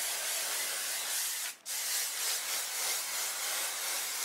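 Hairspray sprayed onto wig curls in a steady close hiss, broken by one brief pause before the spraying resumes, with no voices.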